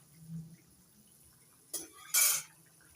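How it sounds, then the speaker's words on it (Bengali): Water poured into a pan of oil-fried spices for a pomfret fish curry gives two short, sharp sizzling splashes close by, the second louder and longer, against a quiet kitchen background. "এবার দিয়ে দিচ্ছি পরিমাণ মতো জল"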